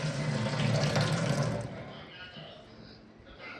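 Water gushes loudly from a tap at a home, a strong steady rush that fades to a softer trickle near the end, with no voices over it.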